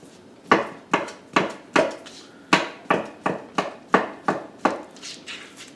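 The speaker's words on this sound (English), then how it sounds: "And I'm just going to keep chopping and chopping and chopping." A knife chops ingredients for a poor man's stuffed flounder on a cutting board. About a dozen close, sharp knocks fall in a steady, even rhythm, with no talking.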